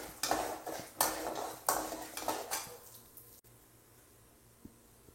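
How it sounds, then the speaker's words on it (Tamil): Onions, peanuts and chana dal being sautéed in a pan, heard as a run of close, loud metallic clinks and scrapes of a spoon against the pan, then a quieter stretch with a faint low sizzle. "இதுவும் நல்லா வதக்கிக்கலாம்."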